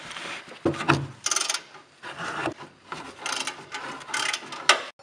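A ratchet loosens 15 mm exhaust nuts on a C8 Corvette, with quick bursts of close metallic clicking in an uneven back-and-forth rhythm repeated several times, with no talking.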